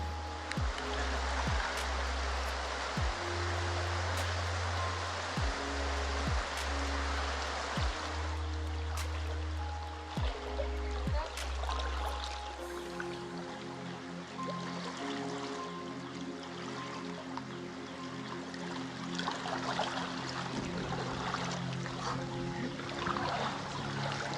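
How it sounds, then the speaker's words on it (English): A Bali river flows steadily as a soft, even rush of water throughout, with a low mechanical hum in the first half that drops away partway through. "The river is cool and refreshing, and the spray from the water in this climate is a wonderful relief."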